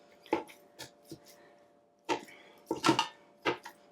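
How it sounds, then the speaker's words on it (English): A utensil breaks up chorizo sausage in a Ninja Foodi pot, giving a few separate scraping and clacking knocks against the pot with short quiet gaps between them. "We're going to break this sausage up."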